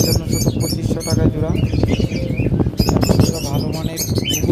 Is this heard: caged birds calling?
yes